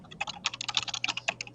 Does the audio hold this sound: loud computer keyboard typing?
yes